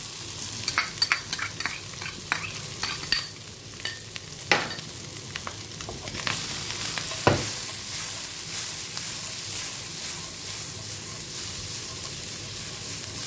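Garlic, coriander root and pork belly stir-fry in lard with a steady close sizzle and crackle, broken by sharp clinks and scrapes of a utensil against the pan throughout.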